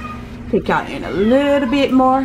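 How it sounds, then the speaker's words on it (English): A cat's rising, drawn-out meow sounds close by, tangled with a person talking over it. "And if y'all hear, that is my cat."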